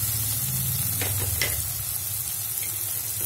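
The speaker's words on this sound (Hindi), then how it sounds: "और टमाटर को नरम होने तक भून लेंगे" Tomatoes frying in a pan for cauliflower bhurji give a steady, close sizzle, with a few brief stirring scrapes near the middle and no talking.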